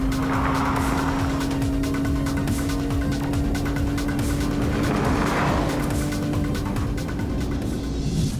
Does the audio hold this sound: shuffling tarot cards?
no